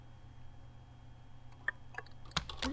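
Sparse computer keyboard keystrokes, a few scattered clicks that grow into a quick cluster of taps near the end, faint and close with no talking.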